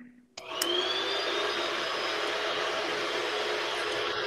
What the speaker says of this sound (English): I just had to turn on the vacuum because that question was so dirty.